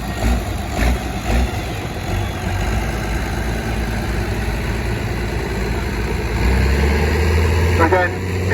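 Turbocharged four-cylinder engine of roughly 200 horsepower runs steadily at a steam fair, a low continuous drone with a slight rev rise near the end, heard under an announcer's talk.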